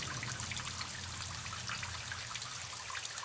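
Rain falling in Myst V: End of Ages, a soft, steady trickling patter with faint dripping, continuous and fairly quiet, with no voices.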